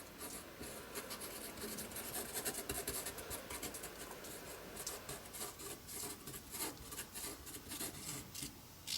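A hand rubs glued paper down toward the edge of a tag, giving a faint, steady dry scratching and rasping with short repeated strokes close by, with no talking.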